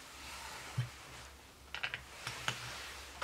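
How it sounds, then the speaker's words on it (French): A small hole punch device from Action pierces a bookmark, giving a few crisp clicks and snaps, brief and faint, with one click early and a cluster of sharper clacks later, no voice. "Donc je fais un trou avec ça, c'est un appareil que j'ai eu chez Action pour faire des trous."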